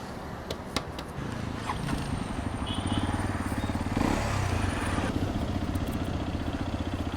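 A Hero XPulse 210 motorcycle is being ridden, its engine giving a steady close-up thrumming putter with rapid regular pulses under wind rush, with a slight rise midway.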